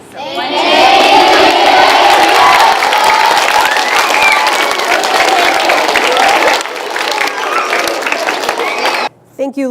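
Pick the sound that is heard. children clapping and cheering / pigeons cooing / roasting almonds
children clapping and cheering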